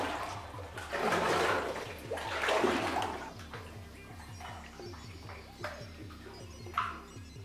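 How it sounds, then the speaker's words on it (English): Someone wades through water inside an abandoned gold mine, with swishing splashes and sloshing steps echoing in the tunnel over a low steady hum, with a person speaking briefly. "We're just making our way in the water here."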